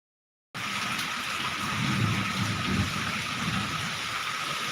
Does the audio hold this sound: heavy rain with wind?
yes